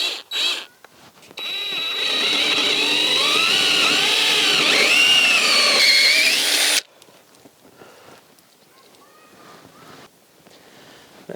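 A power drill boring a hole with a 1 3/8 inch bit while installing an outdoor outlet box: a loud, steady whirring drone of about five seconds with a wavering pitch, cut off abruptly and followed by quieter handling noises.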